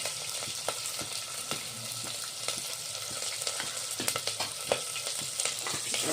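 Steady sizzling of long-cut green chillies frying in a hot pan, with scattered small pops and crackles throughout, close and fairly loud.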